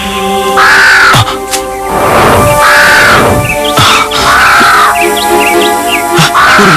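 A large crow caws loudly and repeatedly in a forest, harsh drawn-out calls recurring about every second, close and dominant over a busy background.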